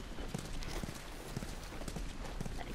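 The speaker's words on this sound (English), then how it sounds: "You guys have horses. We got a whole lot of them." Horse hooves clip-clop in The Last of Us Remastered, a steady rhythmic series of hoofbeats on firm ground, faint and somewhat distant beneath a low ambient hum.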